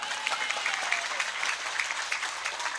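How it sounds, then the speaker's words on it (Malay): Dense, steady applause from a crowd at an Islamic sermon marking 1 Muharram, loud and continuous throughout with no voices. "tepuk tangan"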